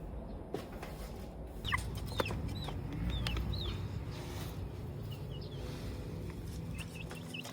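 Farmyard chickens cluck and give short chirpy calls at a moderate distance, scattered bursts over a steady low background hum, with no one speaking.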